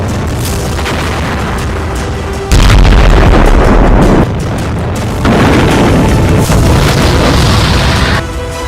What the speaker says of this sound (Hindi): पंद्रह भीषण धमाके,